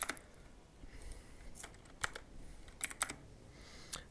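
Quiet, close computer keyboard typing, a short run of separate keystroke clicks in an irregular rhythm, with no voices.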